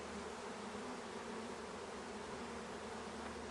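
Honey bees from a package shipped from Georgia to Massachusetts, buzzing steadily in their newly installed hive, a faint, continuous, even hum with no pauses or voices.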